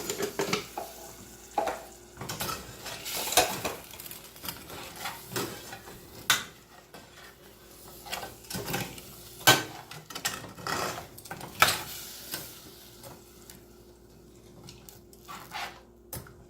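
A metal spoon scrapes and stirs a hardened candy mixture in a pot, giving repeated irregular scraping and clinking strokes, close and moderately loud, with no talking.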